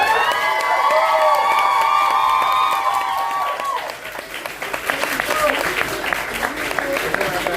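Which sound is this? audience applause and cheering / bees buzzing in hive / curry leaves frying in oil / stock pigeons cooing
audience applause and cheering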